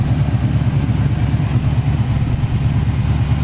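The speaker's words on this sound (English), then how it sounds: "It's powered by a great running 350 with headers and dual exhaust." A classic car's 350 V8 with headers and dual exhaust idles close by, a loud, steady, deep rumble with a slightly lumpy pulse throughout and no talking.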